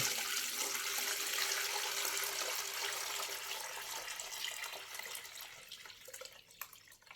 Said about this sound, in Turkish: Onu bir dökelim bakalım suyumuzu.